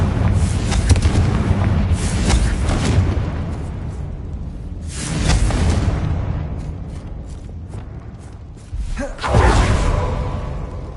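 Fire spells blast and explode in Hogwarts Legacy, a run of loud, roaring booms and whooshes, with one broad burst near the start, another midway and a final blast near the end.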